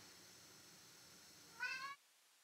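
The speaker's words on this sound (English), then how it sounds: "you heard the click, you heard that cat" A cat lets out a single short, loud yowl near the end, over a steady low background hum that then cuts to silence.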